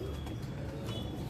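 Low, soft pigeon cooing murmurs steadily beneath a constant background hum, with a few close throaty calls.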